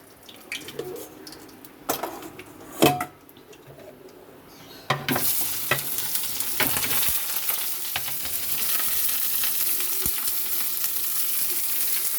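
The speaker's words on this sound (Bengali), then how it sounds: "তো পেঁয়াজগুলো আমি লাল লাল করে আগে ভেজে নেবো।" Onions with a dried red chili go into a pan. After a few scattered clinks and knocks, a loud, close sizzle bursts in and holds steadily to the end.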